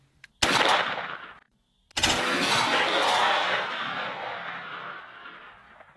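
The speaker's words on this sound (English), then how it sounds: "we're shooting the 301 turkey with a Patternmaster Code Black turkey choke in" A .410 shotgun loaded with a tungsten turkey load fires two loud, sharp shots outdoors, each with a long, fading tail; the first is cut off, the second rings out for several seconds.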